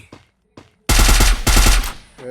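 Rapid bursts of automatic gunfire in the video game Free Fire Max blast loudly in two sustained volleys, preceded by a couple of faint short sounds.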